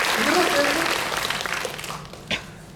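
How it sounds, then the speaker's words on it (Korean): Cinema audience at a film screening Q&A applauds the director, a broad wash of clapping that fades over a couple of seconds, ending with one faint sharp sound. "우리 감독님께 박수 부탁드리겠습니다"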